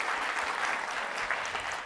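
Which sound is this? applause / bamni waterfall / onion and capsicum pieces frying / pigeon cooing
applause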